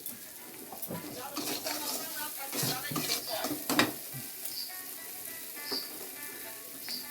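Khalse fish curry being stirred in a pan with green chillies, giving a soft steady sizzle with occasional scraping clinks of the spoon, fairly quiet under intermittent talk.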